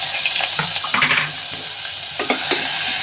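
Chopped onion hits hot oil in a home kitchen pan for a chicken curry, a continuous sizzle broken by short scraping spoon strokes as it is stirred, close and without speech.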